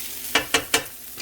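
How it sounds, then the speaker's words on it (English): Frying onions are stirred together in a pan, giving three quick close scraping strokes over a low sizzle, then a fainter fourth one. "let's start moving everything back in together so that our onions"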